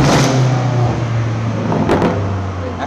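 A car engine hums steadily and close, its low drone shifting pitch as it revs, with a couple of brief clicks or knocks near the end and no talking.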